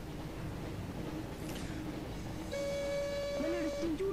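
A train in the video game Big Rigs sounds a long steady horn blast over constant rumbling engine noise, with a shorter wavering tone following, close and fairly loud while game noise continues underneath.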